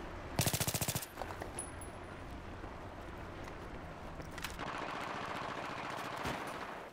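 Rapid automatic gunfire from a video game shooter, Battlefield 3, bursts out at the start in a quick rattling volley, then gives way to a steady background of game ambience with a few distant shots.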